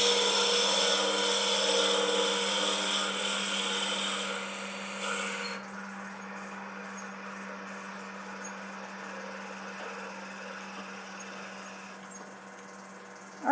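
A drill bores into a small container, a steady high whining grind for several seconds, then a lower, quieter hum with a sharp burst at the very end.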